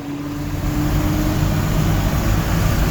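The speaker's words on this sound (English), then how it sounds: "It is really a fun truck to be cruising around in." A truck engine rumbles loud and close, a steady low drone holding even throughout with no pauses.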